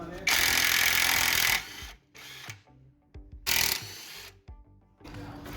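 A 21 mm socket works loose the nut on a 2008 Mercedes B-Class front shock absorber bolt. Loud bursts of rapid mechanical rattling alternate with quieter clicks and clanks of the tools between them.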